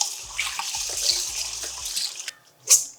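Water streams from a kitchen sink tap as rice is rinsed, a steady running wash with splashy surges and a brief pause before a final gush; no speech.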